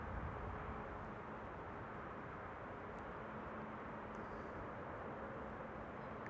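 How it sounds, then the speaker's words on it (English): A KLM airliner on a go-around at Amsterdam Schiphol makes a steady, loud, broadband engine roar that holds level for the whole stretch, with no voices. "KLM flight 914 arriving from Aberdeen is going around again"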